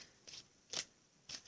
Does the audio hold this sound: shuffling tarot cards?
yes